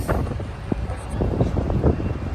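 Steady gusting wind in Taipei buffets the microphone, a low roaring rumble throughout with a few soft knocks and faint movement beneath.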